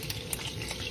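Yellow onion goes into a simmering pot for a Ghanaian family dinner, giving a faint, steady sizzle and bubbling with light stirring.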